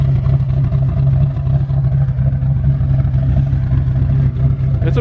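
A carbureted car engine runs through a full stainless steel H-pipe exhaust, giving a steady, deep rumble with a slight rough flutter. It stays loud and close for the whole stretch, with no speech.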